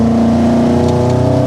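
A Ford Mk1 Escort with a modern engine swap pulls hard under acceleration, a loud steady engine note with a strong low hum and a slowly rising pitch, close to the listener.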